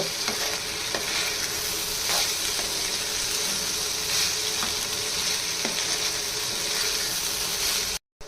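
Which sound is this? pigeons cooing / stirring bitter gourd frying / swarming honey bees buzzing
stirring bitter gourd frying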